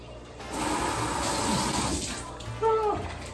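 Tap water runs steadily into a container while microwave oatmeal is being prepared, a continuous close splashing rush with a brief louder surge near the end.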